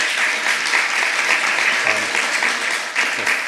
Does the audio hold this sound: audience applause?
yes